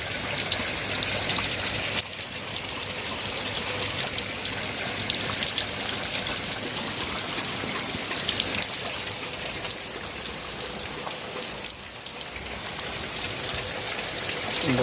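Heavy rain falls in Bangalore as a steady, dense patter and trickle of water on surfaces that stays nearly constant from start to finish, with a few faint brief disturbances.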